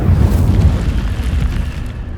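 A burst of Incendio fire magic from a wizarding video game, a loud, sustained roaring whoosh with a heavy low rumble that fades slightly over about two seconds, heard alone without talk.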